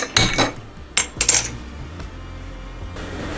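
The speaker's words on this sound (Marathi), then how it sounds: "मी स्टीलची कढई घेतली आहे त्याच्या खाली गॅस लावतो" A steel kadai is set down on a gas stove with a few sharp metallic clanks and rattles in quick succession, close and loud, followed by a quieter lingering ring.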